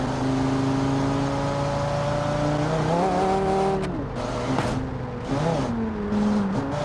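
A car engine in a racing video game, a wheel-stander build, drones loudly and steadily, then its pitch dips and climbs as it shifts into third gear, with tire squeal and whirring following.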